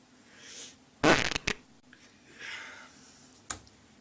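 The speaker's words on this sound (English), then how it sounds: "A fart joke." A comedic fart sound effect in a low-budget action film, a loud raspy burst followed by a shorter blip, then quieter noise and a brief final pop, standing alone without speech.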